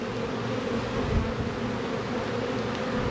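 Honey bees buzzing steadily inside a nuc hive, a dense close hum that holds level for a few seconds, with one brief swell about a third of the way in.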